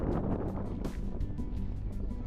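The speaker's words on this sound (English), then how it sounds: "it's so windy, guys" Gusty wind at Guilderton, Western Australia, buffets the microphone in a steady, rough rush, with rhythmic whooshing bursts and no talking.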